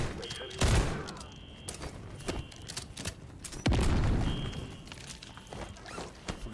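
A C4 charge detonates in the Call of Duty MW3 campaign, two heavy booming blasts a few seconds apart over a background of game footsteps and clatter.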